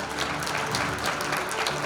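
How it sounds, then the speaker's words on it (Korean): An audience at an electrical industry day ceremony claps to welcome the chairman, a dense, steady wash of applause filling the hall throughout. "큰 박수 주시죠."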